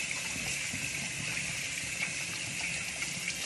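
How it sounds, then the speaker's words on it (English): Running tap water splashes steadily at a bathroom sink while a face is rinsed clean of a skincare product at night, a continuous close hiss with small irregular splashes throughout. "And I'm gonna wash that off real quick."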